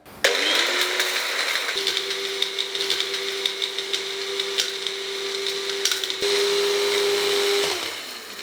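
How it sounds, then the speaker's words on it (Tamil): A small bullet mixer grinding dry ginger roars continuously and loudly at close range, with a steady motor whine, rattling pieces against the blade and a pitch shift near the end before it stops. "சுக்கு பாருங்கள் ரொம்ப ஈஸியாக அரைச்சிரும்"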